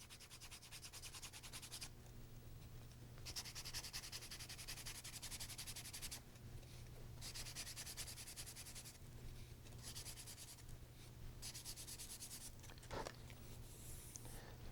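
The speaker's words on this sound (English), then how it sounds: "I just take a piece of sanding paper and roll it up" A piece of rolled-up sandpaper rubs a balsa wood model joint in quiet, rasping strokes, repeated in a steady back-and-forth rhythm with short pauses, close up and alone.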